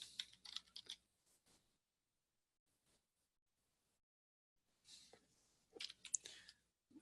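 Typing on a computer keyboard: a quick burst of close, crisp key clicks, a long pause of near silence, then another cluster of rapid taps.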